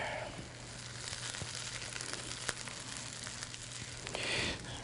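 Steak Diane ingredients with garlic and onions sizzle in a pan, a steady, close frying hiss that swells briefly near the end.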